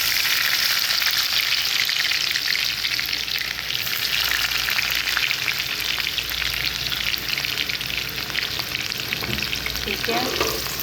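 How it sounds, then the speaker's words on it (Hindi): Chopped onions and fenugreek seeds frying in hot oil while cooking karhi pakora: a loud, continuous close sizzle with crackling, and brief stirring near the end, with no voices. "मेथी दाना हमारा जैसे ही थोड़ा सा फ्राई होगा तो हमने इसमें क्या करना है, प्याज ऐड कर देने हैं"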